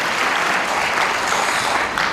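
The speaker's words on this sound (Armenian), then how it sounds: "մեր հրաշալի անսամբլին ջերմ ծափողջույններ" An audience applauds warmly for a military ensemble at a birthday anniversary celebration for an ashugh, loud dense clapping sustained without a break.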